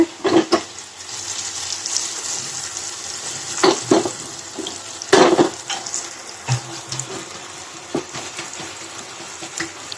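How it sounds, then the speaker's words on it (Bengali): Potatoes frying in a pan give a steady sizzle, broken by several sharp scraping and clattering bursts of stirring against the pan. "এদিকে আলু ভাজা হচ্ছে।"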